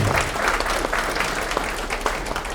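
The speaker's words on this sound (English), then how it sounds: "How about a big round of applause for Michael?" A crowd applauds after a man's piano performance at a sports hall of fame induction ceremony, steady sustained clapping throughout with a few sharper individual claps standing out.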